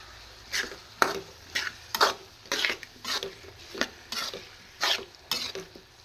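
Eggplant and potatoes are stirred in a frying pan, with a dozen or so rhythmic scraping strokes over a faint sizzle, close up and with no talking.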